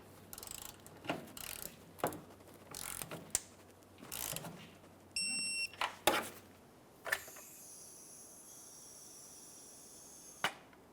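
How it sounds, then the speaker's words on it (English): Torque wrench tightening a fuel tank strap bolt on a 2004-2008 Ford F-150 5.4L V8: several short bursts of close ratcheting clicks and metallic knocks, spaced apart, with quieter gaps between. "Get that torque wrench."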